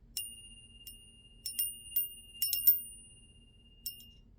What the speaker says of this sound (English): But you know what almost fell off? This bell. So let me give it a ring for you.